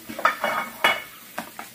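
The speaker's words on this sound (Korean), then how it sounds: "지금 설거지 하고 있습니다" Dishes being washed by hand in a home kitchen, with sharp clinks and clatters of plates and utensils in irregular bursts, fairly close and moderately loud, with no talking.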